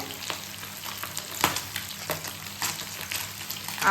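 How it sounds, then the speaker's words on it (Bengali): Pabda fish frying in hot oil gives a steady, busy sizzle, with occasional louder crackles and spatters, close by and without talk. "মাছ ভাজা হচ্ছে"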